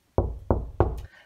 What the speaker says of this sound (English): Let's knock on the door.